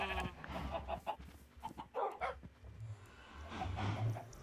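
Dogs in the Minecraft video game bark in a string of short, sharp electronic yelps at close range, some overlapping, with bleating-like game animal sounds mixed in.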